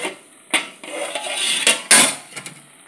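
A metal lid lifted from a pot of hotel-style sambar with potatoes and carrots, giving a few close clanks and sharp metallic clatters over about three seconds, with no talking.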